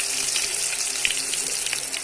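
Curry leaves dropped into hot oil for a tomato rasam tempering, giving a dense, steady sizzle and crackle throughout, close and fairly loud with no talking.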